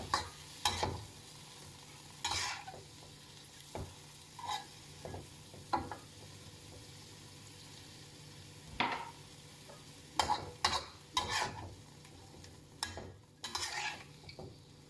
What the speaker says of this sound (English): So you stir the sprouts until it will cook.